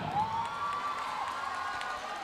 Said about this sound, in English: I just want to quickly mention the great crowd here in Santa Rosa Sports Complex